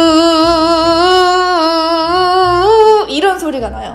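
A voice imitates the piri, a loud Korean double-reed pipe, with one long, strong, nasal held tone. It bends upward slightly, then breaks into a short wavering drop at the end.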